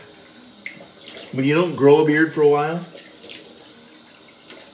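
Cold water runs from a bathroom tap in a faint, steady hiss beneath a voice talking throughout.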